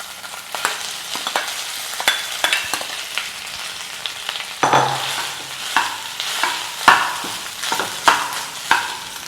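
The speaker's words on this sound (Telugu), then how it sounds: "ఆయిల్ మంచిగా పట్టేసి ఉంచిన రైస్ యాడ్ చేస్తున్నాను" Rice gets stir-fried in oil in a pan. A busy sizzle runs under repeated sharp scrapes and clinks from a spatula, which come close and in irregular bursts, with no voices.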